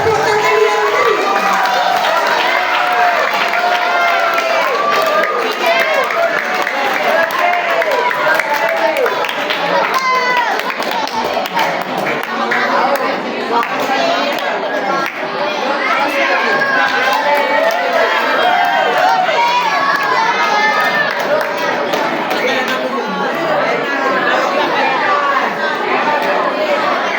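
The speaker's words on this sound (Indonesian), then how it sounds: "Berikan tepuk tangan yang meriah." A school crowd at an inter-class speed competition cheers and claps for a team, with dense excited chatter and shouting voices that go on throughout.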